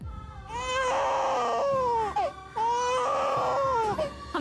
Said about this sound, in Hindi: आपको किसी बच्चे के रोने की आवाज सुनाई दे रही?